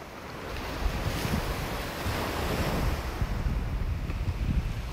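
Surf rolls continuously onto a beach in North Naples, Florida, on a morning walk, a steady wash of breaking waves mixed with gusting wind across the microphone.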